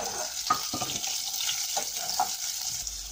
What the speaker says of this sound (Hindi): अब मैं प्याज डाल रही हूँ।